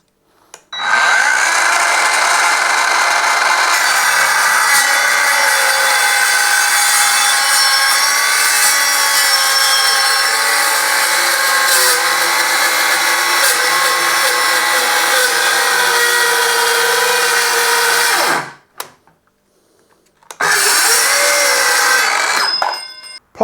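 An Evolution R165CCS-Li 18V cordless circular saw cuts through aluminium pipe with a loud, sustained, ringing whine that lasts about seventeen seconds, drops out briefly, then returns for a second short cut.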